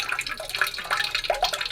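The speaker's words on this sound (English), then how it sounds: "because it's dripping water from here" Water drips and trickles from a leaking pipe at a garden pond being dug in Madeira, a fairly close, irregular patter of small splashes and runs with no talk over it.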